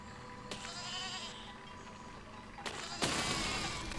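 Sheep bleats in the Besiege video game, a few wavering cries amid clattering mechanical game noise, moderately loud and close.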